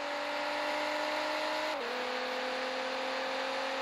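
Toyota Supra engine in Car Parking Multiplayer holding a steady high-pitched drone while accelerating, with a brief dip in pitch like a gear shift partway through, loud and continuous with no talking.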